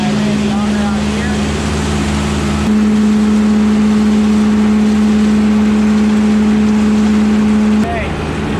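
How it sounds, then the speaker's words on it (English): Auger on a chicken feed grinder-mixer, corn in the mix, running as a loud, steady motorized drone with a constant hum that steps up in intensity partway through and then cuts off near the end. "and I ran the auger out here."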